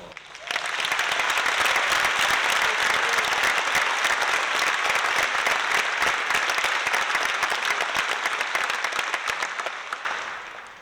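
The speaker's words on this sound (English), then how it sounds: "Let's give this group a wonderful round of applause." Audience applause at an open rabbit show, a loud, dense burst of clapping that starts abruptly, holds steady for about ten seconds with no talking, then tapers off.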